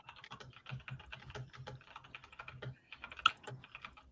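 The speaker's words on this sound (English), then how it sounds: "Yeah, somebody keyboard going crazy." Rapid typing on a computer keyboard, a dense run of quick clicks with brief pauses and one sharper keystroke near the end, heard faintly in the background of an online boxing discussion, with no speech.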